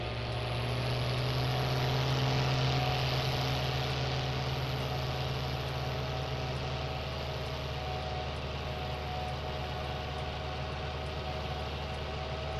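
A tractor engine idles and runs steadily while spraying wheat ground, a continuous low drone with a faint high whine on top, close and unbroken throughout with no talk.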